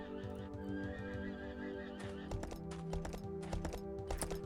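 Horses in the video game Kingdoms, with a whinny and a steady run of clip-clop hoofbeats over a droning background, plus scattered sharp clicks.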